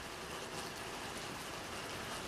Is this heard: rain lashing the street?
yes